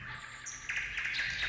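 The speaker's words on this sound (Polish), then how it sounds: "Lecą ptaszki i świergocą." Small birds chirp and tweet in quick bright calls, fairly close and steady throughout, with no talking.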